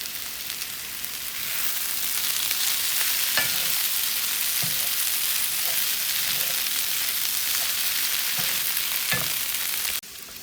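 Chopped charred chilies and onions brown in a hot pan for Texas chili, a steady broadband sizzle running throughout with occasional stirring clicks and scrapes, close and fairly loud, no voices.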